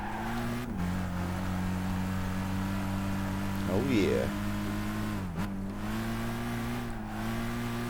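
Volkswagen Lupo engine driving in Gran Turismo 5, a steady, close droning hum that holds an even pitch, dips briefly at a shift and runs on, with a voice speaking briefly over it.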